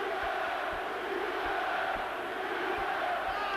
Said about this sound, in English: the crowd appreciating this work from Eubank, shouting out his name